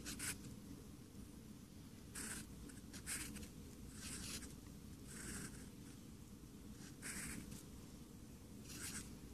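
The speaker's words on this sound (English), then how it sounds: "I'll draw my sad face" Someone draws on paper in an activity book, producing close, quiet bursts of scratchy pen strokes in short irregular spurts separated by pauses, with no talking.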